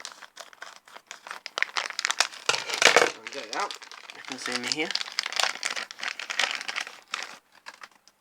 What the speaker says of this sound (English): get a pair of scissors and cut it out